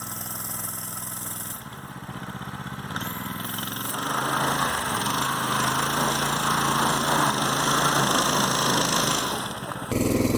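Small single-cylinder engine of a Coleman BT200X mini bike, first idling with a rattly putter, then revving up into a steady, buzzy drone that holds near and loud, dipping briefly at the end.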